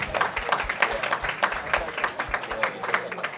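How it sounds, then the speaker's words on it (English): A crowd claps after a grappling match at the Ironman Grappling Championships, with irregular bursts of applause and a voice speaking over the clapping. "Give that match a round of applause."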